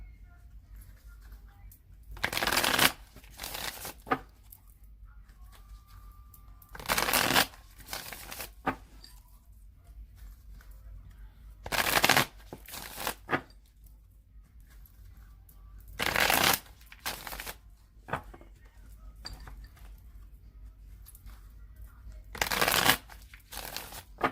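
A deck of cards is riffled and shuffled five or six times, crisp bursts separated by quiet pauses, close up with no talking.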